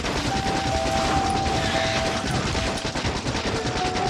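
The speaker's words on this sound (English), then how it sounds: "my machine gun ammo for piercing rounds" Factorio machine gun loaded with piercing rounds rattles out a continuous, dense stream of rapid automatic fire for several seconds, steady and loud with no pauses and no talking.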